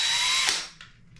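A power drill whirs steadily while drilling holes to mount a toilet paper holder, then winds down after about half a second, followed by a couple of faint short tool sounds.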